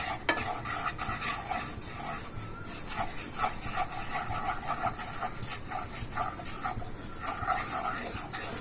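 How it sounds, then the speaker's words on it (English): A butter and flour roux is stirred steadily in a pan, a continuous close scraping and soft sizzle with irregular rubbing strokes throughout. "Mix all of this together, and as the butter keeps melting, it'll all become nice and liquid"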